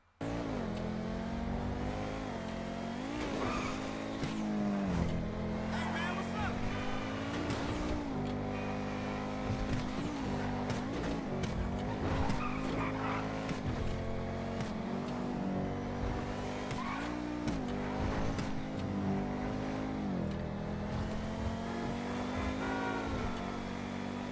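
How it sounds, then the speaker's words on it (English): A supercar in GTA V roars continuously, its engine revving up and down with shifting pitch and occasional tire noise, loud and close throughout with no talking. "crank up the game sound. And I just kind of want you to listen and hear when I take my foot off of the gas"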